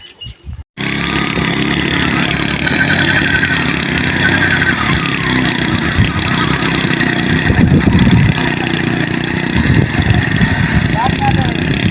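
A motorcycle engine runs steadily and loudly for about eleven seconds, with a continuous mid-pitched drone after a brief quiet start, while people talk over it.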